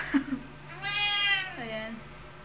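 A grey house cat meows indoors, a long drawn-out call after a couple of short soft sounds, close and clear with faint background hum.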